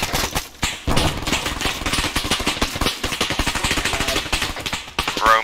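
Rapid machine-gun fire in Arma 3, with dense bursts of automatic shots rattling almost without pause and a few heavier bangs, loud and close.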